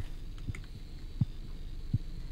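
Slow, muffled heartbeat thuds in the video game The Cat Lady, three low beats spaced under a steady hum with no talking.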